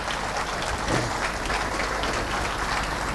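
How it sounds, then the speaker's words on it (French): An audience applauds after a talk on equipment safety at a conference, with dense, steady clapping from many hands that fills the room at an even level. "Merci, on peut l'applaudir."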